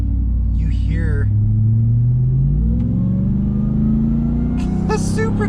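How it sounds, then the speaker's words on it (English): 2021 Ram TRX pickup under light throttle: a steady deep engine rumble with a rising supercharger whine building gradually, close and loud, with a voice speaking briefly over it. "a supercharger whine."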